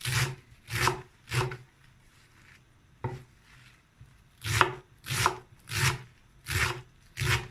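Knife chopping dock leaves on a board, sharp thuds in quick bursts of three or four strokes, with a pause between groups; close, no talking.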